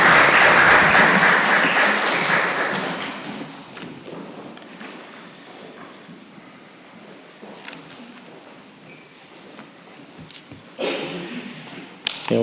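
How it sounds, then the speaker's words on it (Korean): A church congregation bursts into loud applause during a Sunday morning service at an air force base chapel, the clapping swelling at the start and then thinning to scattered claps and shuffling before a brief renewed burst. "우리 하나님께 영광의 박수 올려드리도록 하겠습니다"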